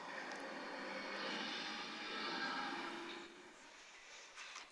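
Reconstructed dinosaur roar voiced through a crocodile-like sound organ: a sustained, low, breathy rumbling drone that swells steadily for about three seconds, then drops away into quiet.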